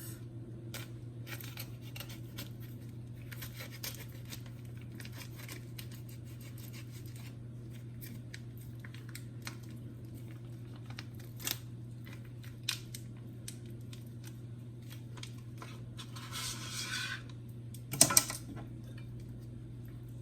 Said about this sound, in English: I always have a hard time removing the lid of this. So just use a knife.